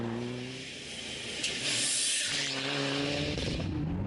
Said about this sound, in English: And then the two BMWs in tandem, both six-cylinder machines